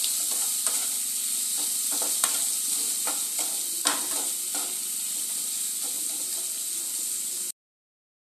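Fish curry base for katla tel jhol is stir-fried in a pan with salt and turmeric, giving a steady sizzle with repeated scraping stir strokes, close and continuous, then cutting off abruptly near the end.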